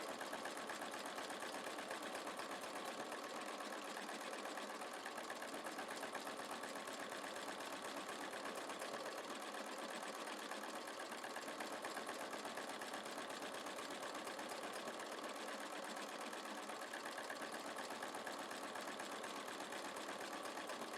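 A sewing machine stitches continuously with a wing needle at a longer stitch length, a steady mechanical whir with a faint rhythmic pulse, running alone without pauses.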